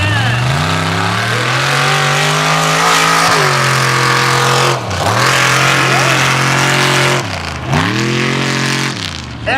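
Mud drag race truck roaring down the track, engine revving hard with rising and falling pitch through several gear changes, loud and close throughout.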